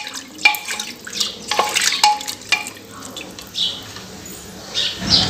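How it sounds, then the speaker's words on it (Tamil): Water stirred into chicken in a pan for a pressure-cooker chicken dish, giving close wet splashing and sloshing with a few sharp clinks of a spoon against the pan, moderately loud with no talk. "தண்ணி சேர்த்துட்டு நல்லா மிக்ஸ் பண்ணிக்கலாம்."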